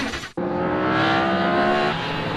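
GT race cars lapping the Brands Hatch Indy circuit in a 2013 GT Cup round, with a BMW among them, give a loud, close, sustained engine roar after a brief cut, steady and unbroken, with no talk.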